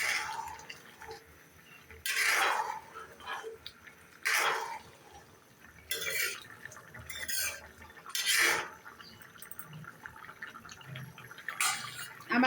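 A fish curry with potato, taro and cauliflower, seasoned with cumin and garam masala, is stirred in a pot: intermittent scraping and clinking strokes at irregular intervals, with quiet pauses between them.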